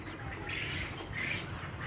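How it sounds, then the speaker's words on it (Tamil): Turkey chicks squawking among backyard poultry: a few short, raspy squawks close by, repeated in quick bursts against faint background noise. "வான்கோழி குஞ்சு"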